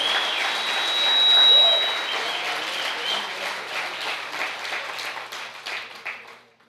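A church congregation bursts into loud applause that swells and then gradually thins out over several seconds, filling the sanctuary with dense clapping and some crowd noise.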